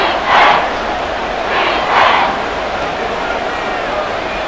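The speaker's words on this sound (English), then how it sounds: "This crowd trying to force a false start here." A stadium crowd roars at an NFL football game between the Buffalo Bills and Kansas City Chiefs, a dense continuous roar swelling in a few surges, with a commentator talking over it.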